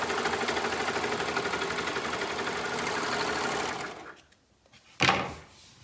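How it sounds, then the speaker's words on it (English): A sewing machine runs in a steady rapid whir for about four seconds, then stops, followed by a short clack. "now I am going to have to pull out my sewing machine for one little step here"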